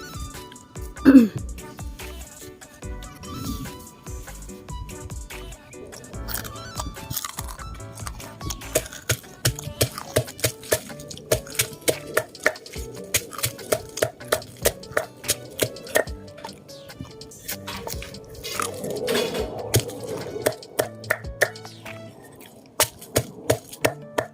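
Galangal and lemongrass are pounded in a mortar for a Thai galangal salad, with a long run of steady, evenly spaced thuds that pause briefly now and then.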